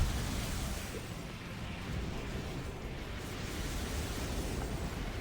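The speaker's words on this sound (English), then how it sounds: "I'm just kind of firing their missiles randomly" Missiles fire and explode in the mech game Armored Core: For Answer, a dense continuous rumbling roar of blasts that stays even and fairly loud throughout.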